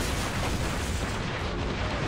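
A mortar shot bursts against an enemy ship in Assassin's Creed Rogue, a dense continuous boom and roar filling the short stretch at steady loudness with no voices.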